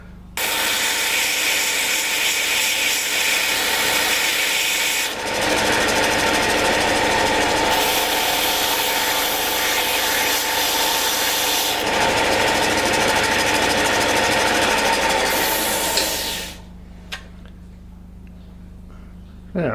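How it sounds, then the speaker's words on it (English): A belt grinder works a hardened and tempered steel knife blade on the slack belt between wheel and platen for a scrap-built folding knife, a steady loud abrasive whine with shifting pitch that runs continuously, then spins down near the end. "I'm working on this tiny bit of slack belt behind the wheel here, so between the wheel and the platen."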